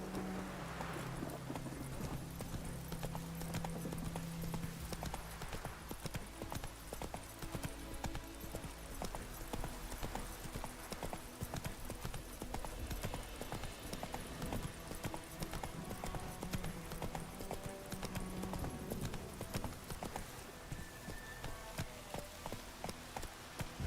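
Horse hooves clip-clopping in The Witcher 3 video game as a horse is ridden, a steady, quick rhythm of hoofbeats that runs throughout, close and fairly quiet within the game's background ambience.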